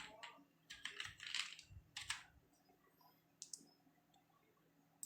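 Typing on a computer keyboard: quick bursts of close, crisp key clicks in the first half, then a few isolated taps, quiet and without talk.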